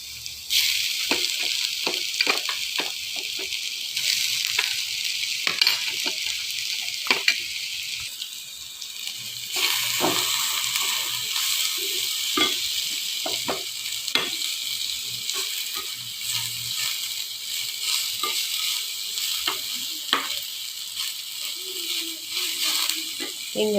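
Onion, carrot and potato pieces sizzling and frying in a pan, with steady crackle and frequent clinks and scrapes of stirring, close and continuous with no talk.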